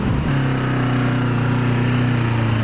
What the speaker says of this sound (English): it just wants to flip through the gears at a ridiculous pace